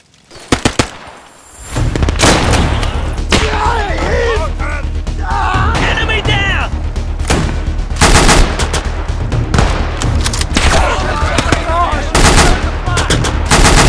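Sustained machine gun fire in a Battle of Dunkirk 1940 scenario in Call to Arms: Gates of Hell, loud, dense bursts and scattered shots over a steady combat din lasting most of the clip.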